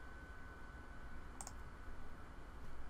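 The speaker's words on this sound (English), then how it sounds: "So I'm going to click on my star icon." A single mouse click on a bookmark star icon, heard around the middle as a sharp, short double click, close and alone over a faint steady room hum.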